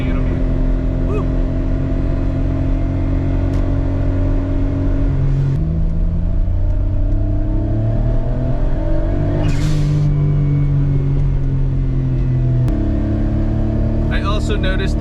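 A turbocharged Autozam AZ-1 engine fitted with an HKS boost controller, heard from inside as a steady droning hum that rises and falls in pitch as revs change, with a brief hiss near the middle.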